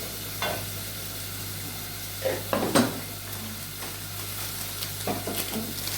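Tomatoes cooking with salt in a pot, a soft, steady sizzle broken by a few clattering stirs and light knocks of a utensil against the pot.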